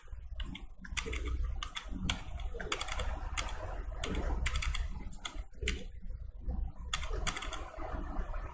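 Computer keyboard keys are pressed in quick, uneven bursts of clicky taps, close and fairly quiet, while working in Photoshop.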